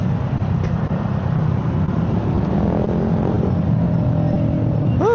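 Steady road traffic rumbling around a passing vehicle, a continuous low roar of engines at moderate distance with a short tonal chirp at the end.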